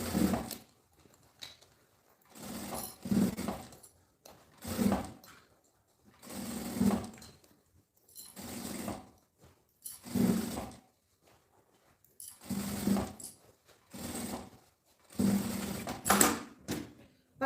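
A sewing machine stitches the lining of a fabric bag in a run of short, even bursts separated by brief pauses, fairly close and clear with no talking over it.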